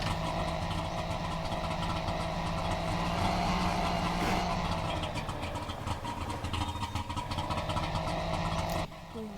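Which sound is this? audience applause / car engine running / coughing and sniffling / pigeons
car engine running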